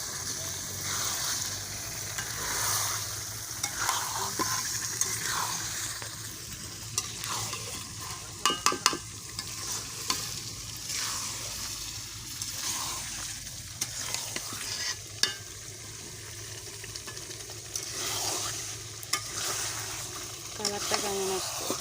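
Washed fish sliding into hot oil in a village kitchen: a steady, loud sizzle of frying with occasional stirring clatters and spatter pops throughout, while someone talks quietly now and then.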